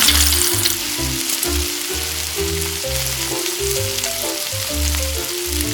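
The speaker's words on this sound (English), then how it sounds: "When the oil heats up, drop the squid into the frying pan." Food sizzles and crackles loudly in hot oil, a continuous frying hiss with bubbling pops, close up.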